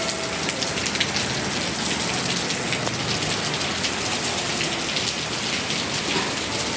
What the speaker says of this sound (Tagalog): Naabot na po tayo ng ulan